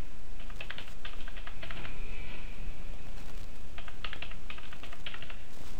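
Two short bursts of clicky keystrokes as a password is typed on a computer keyboard, a quick run of taps, a pause, then another quick run, close and fairly loud over a soft background hiss.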